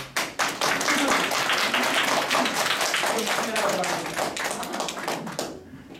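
An audience at a Korean healing-coordinator lecture breaks into clapping, a few scattered claps first, then dense loud applause for about five seconds before it quickly dies away.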